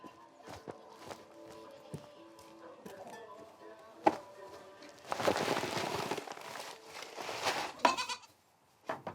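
A herd of goats bleats at a sheepfold in the Corsican countryside, with scattered, fairly quiet calls mixed with hoof steps and shuffling, building into busier rustling toward the end.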